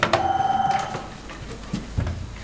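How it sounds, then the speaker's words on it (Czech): A telephone rings on stage during an amateur theatre comedy set in a plastic surgery office, a single bright electronic ring at the start fading out over a faint, noisy room background. "no a zvoní mi tu telefon"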